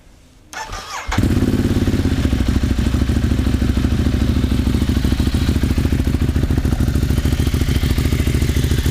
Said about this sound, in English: Plenty of engine noise as is usual with the Ducati, but a decent exhaust note as well.